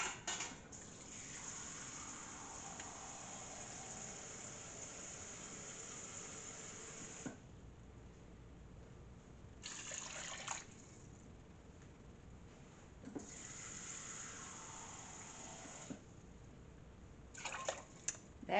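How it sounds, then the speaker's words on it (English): Water pours steadily into a soup pot of vegetables in a home kitchen, a close hissing gush that stops and restarts in several bursts, with no talking. "I'm just going to put some water in it to cover all the vegetables."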